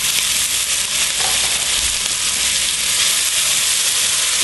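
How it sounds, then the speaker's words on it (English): Chopped shallots hit a hot frying pan and sizzle steadily, a loud, bright hiss with faint crackles that holds evenly throughout, no voices over it. "you bring in the shallots that we cut up. And we're going to go ahead and put in the shallots"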